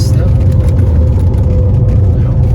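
Steady mechanical droning from a moving 1999 BMW 328i (E46), a low rumbling whir with a faint whine from a rear differential needing service, layered above the road and engine noise.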